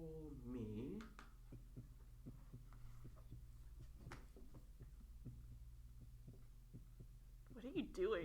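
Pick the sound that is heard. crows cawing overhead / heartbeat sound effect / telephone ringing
heartbeat sound effect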